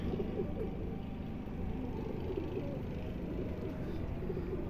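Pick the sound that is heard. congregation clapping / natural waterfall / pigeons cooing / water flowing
pigeons cooing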